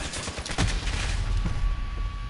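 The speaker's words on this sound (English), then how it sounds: "We just got sniped." A sniper shot rings out in Call of Duty Modern Warfare during an online match, a sharp crack followed by a rolling burst of gunfire and a long ringing tail, loud and close.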